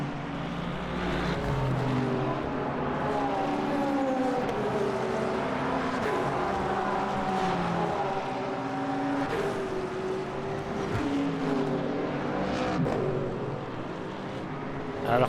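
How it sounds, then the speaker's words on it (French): A GT3 race car roars steadily through the Le Mans 24 Hours in Le Mans Ultimate, its engine note rising and falling with gear changes in a continuous loud drone. "Voilà, le GT3 en action."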